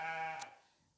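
A single short sheep bleat on a farm during lambing, close but fairly quiet, cut off quickly and followed by near silence.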